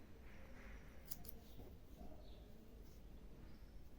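Scissors cut crochet yarn in a quiet room: a few faint, quick snips near the start, then soft handling noises.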